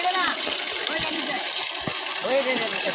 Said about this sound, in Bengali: একদম পরিষ্কার পানি আসছে